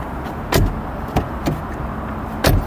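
A few sharp metallic thuds of a 2012 Hyundai i20 1.4 CVVT door shutting, each short and solid, over a low steady outdoor hum.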